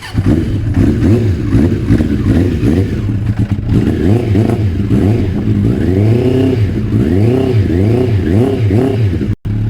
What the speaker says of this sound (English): Bike's not warmed up, but it still sounds great.